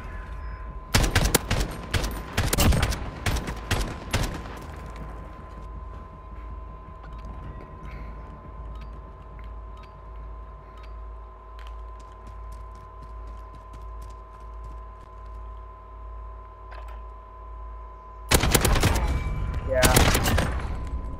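Rapid bursts of gunfire from a Call of Duty match crackle in dense volleys at the start and again near the end, loud and sharp, with a quiet steady hum in the long gap between them.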